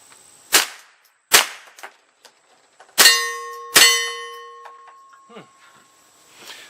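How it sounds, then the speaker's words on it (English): Subsonic .22LR rounds fired from an unsuppressed Rossi rifle, some into dirt and some into steel targets. Four sharp cracks come at uneven intervals, and the last two are followed by ringing metallic clangs from the struck steel that decay slowly. "we'll be able to hear this subsonic stuff without the can"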